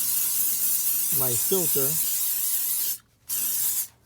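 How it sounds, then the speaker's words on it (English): Armor All Orange Fresh Smoke Off aerosol sprayed onto a Hyundai Elantra air filter, heard as a loud, steady hiss broken by a short pause, then a second burst. A voice speaks briefly over the spray. "I'm gonna get this Armor All Orange Fresh Smoke Off, and I'm gonna open it, and I'm just gonna spray"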